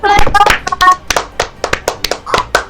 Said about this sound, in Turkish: Bu harika yeniliş sayesinde bir alkışlayalım arkadaşlarımızı